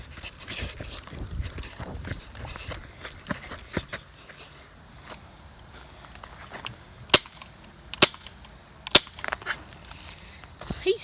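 Airsoft guns firing in an outdoor gladiator-style skirmish: scattered sharp pops and cracks, several louder single shots standing out near the end, over a rustling, breezy background.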